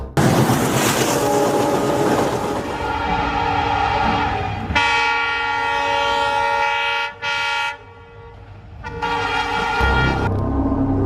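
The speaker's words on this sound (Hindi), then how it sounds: "करीबन 1 घंटे बाद ट्रेन आई।" A train arrives with a loud rumbling engine and long sustained horn blasts, the horn sounding several times in overlapping stretches, near and powerful.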